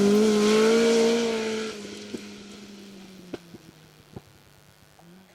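Ford Escort rally car driven by Wyn Hughes and David Davies on a Welsh Rally Championship forest stage, engine note loud at first then fading into the distance, with sharp intermittent pops and knocks afterward.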